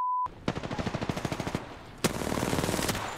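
Automatic gunfire in the video game Apex Legends comes in two rapid bursts of evenly spaced shots. The first burst is a quick, steady string, and the second starts with a sharp crack and runs on in a dense rattle.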